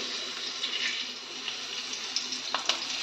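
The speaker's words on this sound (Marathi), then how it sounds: "आपण त्याच्याबरोबर खाण्यासाठी मिरच्या तळून घेते मी" Green chillies frying in oil give off a continuous hissing sizzle, fairly quiet and even, with a few sharper crackles and pops near the end.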